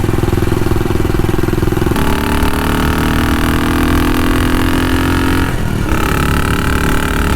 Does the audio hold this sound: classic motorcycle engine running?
yes